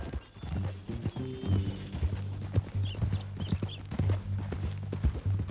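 In Red Dead Redemption 2, hooves clip-clop in a steady trotting rhythm while a horse snorts and whinnies, with a low droning hum underneath.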